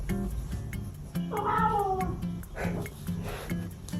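A house cat meows once in a long, drawn-out wavering call, then gives a shorter, rougher mew, close and clear over a steady low indoor hum.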